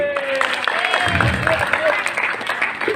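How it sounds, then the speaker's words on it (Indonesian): Audience applause for Ali at an Islamic religious talk, steady dense clapping from a crowd with voices and chatter mixed in underneath. "Tepuk tangan buat Ali"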